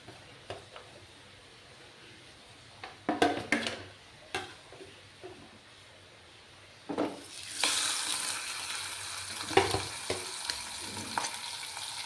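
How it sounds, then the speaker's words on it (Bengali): Katla fish frying in hot oil, a steady sizzle that swells louder partway through, with scattered clicks and knocks of a utensil against the pan; no talking. "তেলটা গরম হয়ে যাওয়ার পর আমি মাছগুলো ফ্রাই করব"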